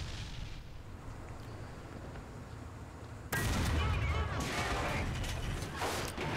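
Tank cannon shot in the War Thunder video game, a sudden loud blast after a quiet stretch of low engine rumble, followed by a lingering roaring rumble and debris rattle.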